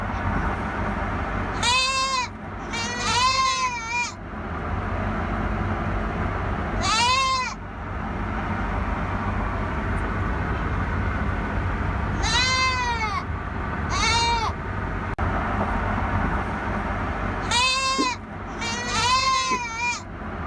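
Goats bleat in loud, wavering cries during a goat ride home, several calls coming in clusters with pauses between them, close over a constant low road rumble.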